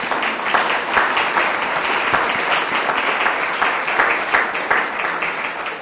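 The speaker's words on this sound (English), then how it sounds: "It's very strong applause, boss." Strong, dense applause from a conference audience at a university quality-assessment meeting, loud and sustained with steady clapping throughout and no voices over it.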